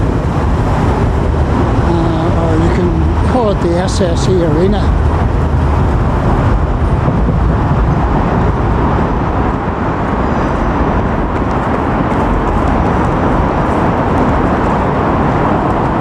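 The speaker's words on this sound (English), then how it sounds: "There's a train going over my head" A loud, continuous low rumble of a train passing overhead on a bridge in Belfast fills the scene while someone talks over it nearby.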